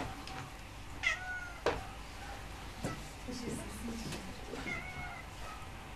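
A cat meows several times at close range in a quiet indoor setting, short plaintive calls spaced irregularly, with soft background noise and a few sharp knocks between them.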